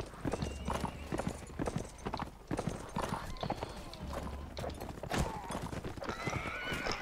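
A horse neighs over a steady clip-clop of hooves in the Mount & Blade: Warband video game, while someone talks over the galloping throughout.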